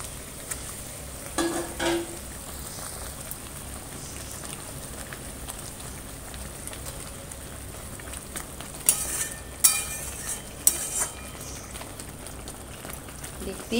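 Fried eggs sizzling as they go into egg curry in a pan, a steady crackling fry texture with a few louder spatters near the end.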